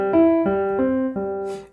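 Four sustained piano notes are played one after another at an even, unhurried pace, each ringing clearly with a gentle decay and no voice over them.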